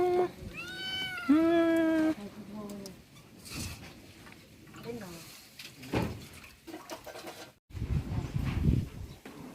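A cat meows loudly a few times in a series of drawn-out, rising cries near the start, followed by household clatter, rustling and people talking.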